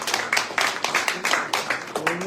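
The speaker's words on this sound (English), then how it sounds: "Give them a round of applause." A small crowd at a rally about the murder of sailor Angelina Resendiz claps in short, uneven bursts. A voice briefly comes through toward the end.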